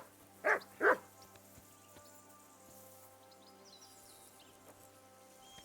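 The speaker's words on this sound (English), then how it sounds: "Jesus, Henry, that barking's driving me nuts. Can you get your dog to shut its beak?" A dog in the Kingdom Come Deliverance II video game gives two quick barks close by near the start, then falls quiet over a steady low hum and faint patter.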